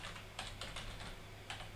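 Keys clacking on a computer keyboard while a command is entered to run a Java program on Windows, several quick bursts of close, crisp taps with short pauses between them.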